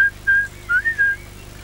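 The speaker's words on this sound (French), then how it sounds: "Au lieu de siffloter là" Someone whistles a short, clear tune in a few separate phrases, close and fairly loud over a quiet background, in a French television advertisement.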